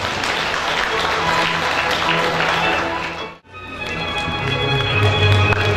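Applause from an audience at a credit union ceremony in Gapyeong honoring a chairman, loud continuous clapping that cuts off abruptly midway, then resumes more thinly beneath background voices and music.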